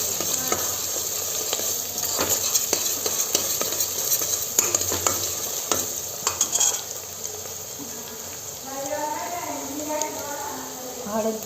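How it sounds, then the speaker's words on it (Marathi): Garlic frying in oil for a spicy country chicken curry, loud sizzling with repeated stirring clatters of a spatula against the pan, then someone speaks over the fading sizzle toward the end. "पहा लसूण टाकते मी आता."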